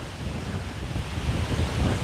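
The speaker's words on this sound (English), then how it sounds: "It's really windy here today too" Steady gusty wind roars across the microphone outdoors, a continuous low rumble with no voices.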